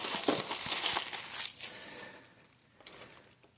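Scissors cut open the plastic-wrapped cardboard of a Panini Contenders trading card blaster box, a faint close crinkling and snipping that fades after a couple of seconds, with one more brief crackle near the end.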